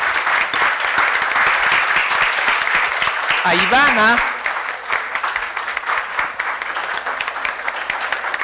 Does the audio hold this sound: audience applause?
yes